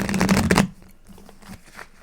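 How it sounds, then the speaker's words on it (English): A burst of tarot card shuffling, a loud dense riffle for about half a second that cuts off abruptly, followed by quieter faint handling sounds. "it's getting a little hard to shuffle"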